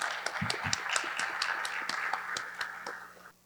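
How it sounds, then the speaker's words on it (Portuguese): An audience at a panel discussion on Mato Grosso's environmental regularization program claps for several seconds, individual hand claps distinct and steady before thinning out and fading at the end. "Salva de palmas para a mesa"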